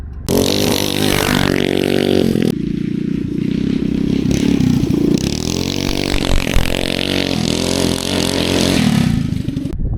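Go-kart with a rebuilt racing engine driving and drifting, a loud close revving engine note that climbs and drops with throttle, plus tire scrape and rattle, continuous with no talking.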